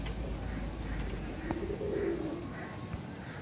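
A Teddy pigeon coos softly once or twice against a low outdoor background rumble, faint and brief.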